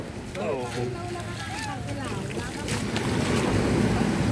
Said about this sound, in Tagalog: Nagkaalon-alon na yan.